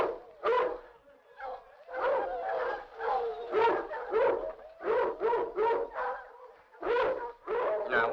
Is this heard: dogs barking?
yes